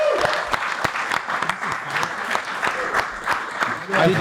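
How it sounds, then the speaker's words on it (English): People clap for the team behind a tournament, a scattered, uneven burst of individual claps with some voices mixed in, moderately close. "I think we should give it a clap around for the whole team"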